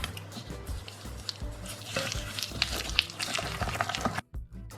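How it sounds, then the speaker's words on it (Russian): A whisk works soft butter, salt and sugar in a bowl, giving quiet, irregular squishy scraping and tapping strokes up close, ending in a brief silence. "Перемешиваю венчиком."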